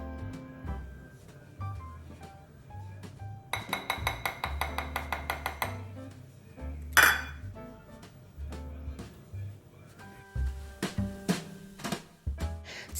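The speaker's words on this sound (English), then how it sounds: "I'm going to go ahead and place a whisk in here and just whisk to combine all the dry ingredients" A whisk rattles rapidly against a bowl while combining dry drop-cookie ingredients, a quick run of bright metallic clinks and scrapes between quieter handling knocks, heard over background music.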